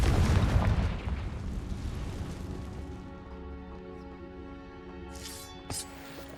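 Confringo fire spell blasts in Hogwarts Legacy, a loud burst of explosive rumble at the start that decays into a lingering tonal hum, followed by a brief sharp crack near the end.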